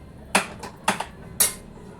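A spoon mixes a besan and spice samosa filling in a bowl, giving three crisp metallic clinks against the bowl's rim with fainter taps between them, close and clear over quiet background.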